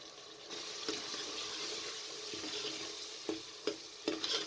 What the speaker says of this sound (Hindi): मसाला जात शामिल करके आपने अच्छे तरीके से चम्मच चला लेना है।